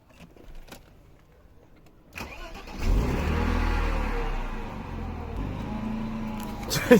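A car engine starts up and builds into a steady, fairly loud running drone as the vehicle pulls away, with a brief whirr like a power window and faint voices early on.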